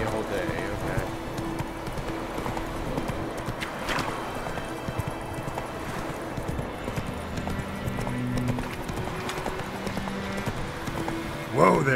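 Hooves of Roach, Geralt's horse in The Witcher 3 video game, clopping steadily beneath continuous game music and ambience, with a brief louder burst at the end.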